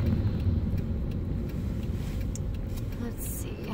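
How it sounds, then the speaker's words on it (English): Road traffic heard from inside a moving car makes a steady low rumble of engine and tyre noise, with faint sounds from outside the car and no one talking. "Hello, traffic."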